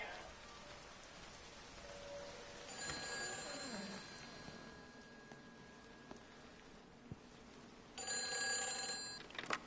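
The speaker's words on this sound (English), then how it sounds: "I hear a phone going off here somewhere." In the game Everybody's Gone to the Rapture, a telephone rings faintly in intermittent bursts over steady rain-like ambience, the ringing louder near the end.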